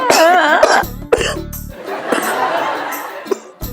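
A man coughs hard several times in quick bursts, close by, with a brief chuckle-like break between fits.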